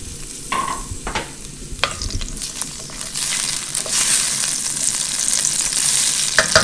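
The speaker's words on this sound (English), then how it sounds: "we're going to put in our garlic right away" Garlic dropped into about half a stick of unsalted butter in a pan: a few sharp clinks and scrapes give way to a loud, close, steady sizzle that swells and keeps hissing.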